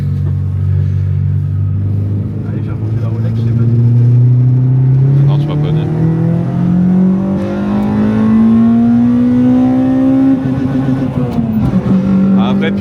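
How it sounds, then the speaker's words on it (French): Honda Civic EP3 with a K20 engine pulling hard through the gears on a winding road, a loud in-car engine note climbing steadily in pitch toward the limiter, then dropping on a shift, while people talk over it. "pilote Honda, hein, ça passe les vitesses au rupteur"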